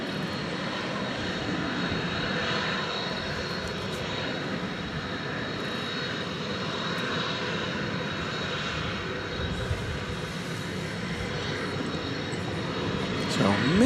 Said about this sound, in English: FedEx has another tri-jet, Flight 1601, off to Indianapolis, which is now taxiing on the east side of the airport.